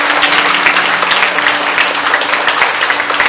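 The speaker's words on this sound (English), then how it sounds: "Even if you're not happy, clap your hands." A church congregation claps hands loudly during a bilingual English and Kannada service, a dense, continuous burst of many hands clapping close by from start to finish.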